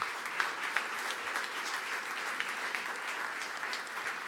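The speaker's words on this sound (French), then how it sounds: "Alors, on va les applaudir encore une fois" Audience at an entrepreneurship awards gala applauds the sponsoring partners, a steady, moderately distant wash of clapping with a few sharper individual claps.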